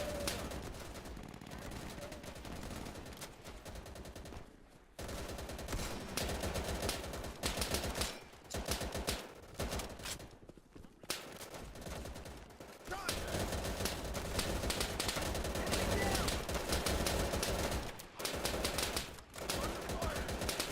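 Rapid gunfire in the WWII shooter Easy Red 2 on a custom Southern France map, dense bursts of rifle and machine-gun fire crackling almost continuously with brief pauses, voices occasionally underneath.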